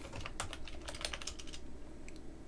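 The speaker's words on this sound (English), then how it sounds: "I told my students to type something like" Fast typing on a computer keyboard at home, a quiet run of close, light key clicks in irregular bursts with no talking.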